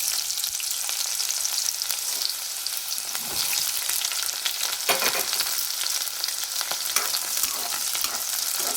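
Onions sizzle steadily in hot oil in a pan for a tomato curry, already-browned garlic alongside, with a dense, even crackle throughout and a few sharper pops and spatula knocks.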